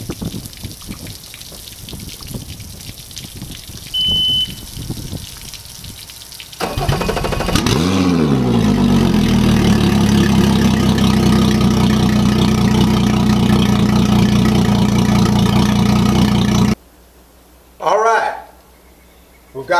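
A 2019 Mercury Pro XS 175 outboard on flushing muffs cranks and starts, then runs at a loud steady idle with watery splashing, before cutting off; people talk before and after it runs.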